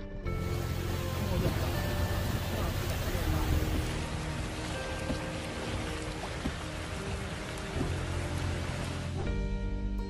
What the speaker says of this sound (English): Heavy rain in Jizan.